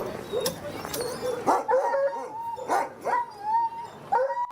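Sled dogs gathered for a race vet check at the UP200 bark, yip and howl excitedly in a noisy chorus of overlapping calls that rise and fall, close and loud throughout.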